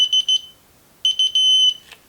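An electronic torque wrench beeps while tightening a scope ring screw on Hostile Engagement LPVO rings: a quick run of sharp, high electronic chirps, a pause, then another chirp series that ends in a longer sustained tone, close and clear.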